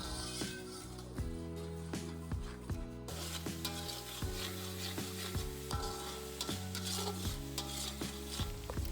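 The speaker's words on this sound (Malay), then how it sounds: "tumis bahan kisar ni sehingga naik bau dan sedikit garing" Ground chili paste sizzles steadily in oil in a pan while a utensil stirs and scrapes repeatedly, with a soft irregular rhythm of strokes against the cookware.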